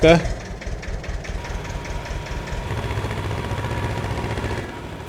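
A tractor engine in Farming Simulator 22 catches with a sharp burst, then settles into a loud, steady low diesel idle that thrums evenly before cutting off at the end.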